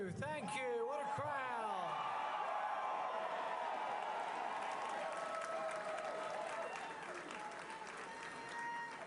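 A crowd at a politician's election-night victory speech in Kentucky cheers and applauds in a sustained, roaring wash with whoops, while a voice speaks over it at the start.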